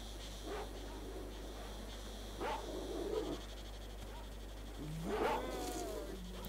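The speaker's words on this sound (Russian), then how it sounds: "Зомбированные собаки." Zombified dogs in the video game S.T.A.L.K.E.R. OGSE give a few scattered growls and snarls, three short bursts spread over several seconds, faint against a steady low ambient hum.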